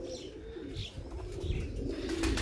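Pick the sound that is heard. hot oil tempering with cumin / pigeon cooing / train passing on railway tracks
pigeon cooing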